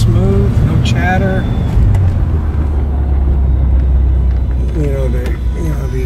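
A car fitted with a rebuilt Super T10 4-speed transmission driving along, a steady loud engine and road rumble with someone talking over it.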